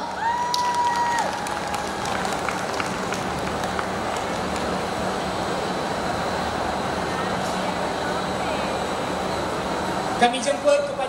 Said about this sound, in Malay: Berikan tepukan gemuruh.